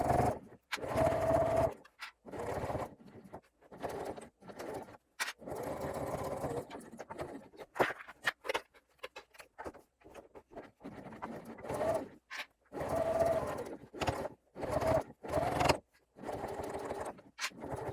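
A sewing machine stitches the card slot pieces of a bag in repeated short runs. The close whirring bursts are broken by pauses and by clicks of backstitching and handling.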